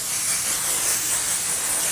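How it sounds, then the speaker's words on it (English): A One Size Beauty Until Dawn setting spray mists steadily from the bottle in a continuous close hiss lasting the full stretch, with no talking over it. "My last product recommendation is the Until Dawn setting spray from One Size Beauty."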